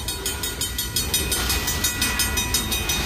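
A BNSF freight train rolls past near the tracks, its wheels giving a steady, rhythmic clatter over a loud rumble.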